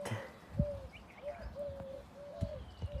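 Pigeons at a farm coo in a repeated soft, hooting call, with a few dull low thumps that may be wingbeats as the flock takes off, fairly faint against quiet outdoor background.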